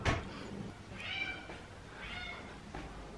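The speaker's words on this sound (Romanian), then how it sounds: "Ce auziți aici este voce de pisoi înnebuniți după pliculeț." Kittens meowing close by, eager for a food pouch, a few high, plaintive mews spaced about a second apart over a faint background rustle.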